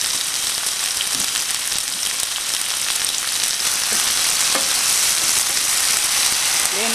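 Minced onion, garlic and tomatoes fry in a pan with a loud, continuous sizzle, with a few faint clinks of stirring, no voices.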